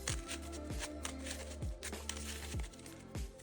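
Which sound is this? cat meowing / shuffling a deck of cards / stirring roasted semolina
shuffling a deck of cards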